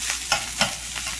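Fried rice with bacon sizzling in a frying pan: a steady, close hiss of frying broken by three or four short scraping stirs at a slow, even pace.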